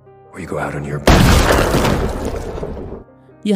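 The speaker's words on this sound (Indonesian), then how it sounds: "batok kepala Max pun akhirnya meledak ditembak oleh Maisie." A sudden loud gunshot in a film cuts in after a moment of tense music, followed by a roaring, crackling burst that fades out, with a voice faintly beneath.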